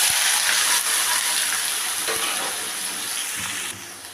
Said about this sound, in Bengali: এখন আমার কড়াইতে তেল বসিয়ে দিয়েছি, তেলটাও আমার গরম হয়ে গেছে। এখন আমি এঁচোড়টাকে কষিয়ে নেব।